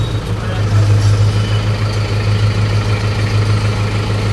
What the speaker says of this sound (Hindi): लो जी ट्रैक्टर हो चुका है चालू अपना।